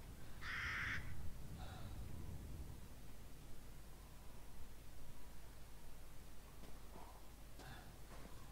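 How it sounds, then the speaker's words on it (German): Ravens cawing in the horror game Resident Evil Village: a couple of loud harsh caws early on, then fainter distant calls later over steady windy background noise. "Ich höre doch schon wieder Raben."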